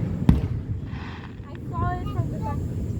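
Fourth of July fireworks give one sharp, loud bang near the start, followed by softer whistling and murmuring voices in the open air.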